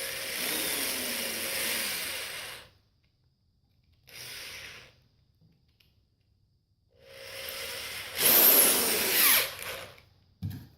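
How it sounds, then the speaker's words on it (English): A power drill with a 5/16 bit bores holes for a homemade fishing rod holder, whirring in separate bursts with silent gaps between them and building to a louder, higher whine near the end. "For this, I'm using a 5/16 size drill bit."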